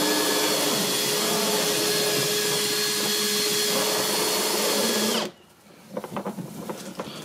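Hand sweeper converted to run on a Makita cordless drill, a loud steady whirring motor drone for about five seconds that cuts off abruptly, followed by quieter clicks and rattles.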